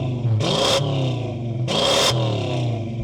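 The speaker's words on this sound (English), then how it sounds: "I want you to have a listen to my amazing Dodge Charger with a massive supercharger on it." Supercharged Dodge Charger engine revving hard twice, two loud blips with a whining supercharger over a steady rumbling idle, close by with no talk.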